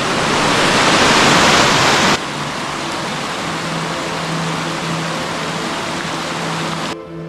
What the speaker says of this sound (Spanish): El río Guadiaro.